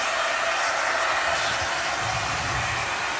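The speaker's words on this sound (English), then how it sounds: "I'm going to kick the hairdryer up." A hair dryer powered by a 1200-watt pure sine wave 12V power inverter blows with a steady, loud whooshing roar that holds constant throughout, close up.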